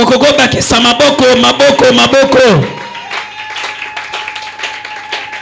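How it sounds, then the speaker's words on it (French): A church congregation at a Thursday service during a fasting and prayer marathon breaks into clapping and acclamation. A loud voice leads at first, then a steady patter of applause continues alone. "Est-ce qu'on peut ajouter des acclamations?"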